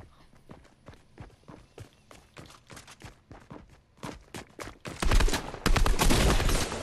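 Gunfire in the video game Fortnite, a run of sharp, rapid shots and bursts that grows louder and denser near the end, with no talk.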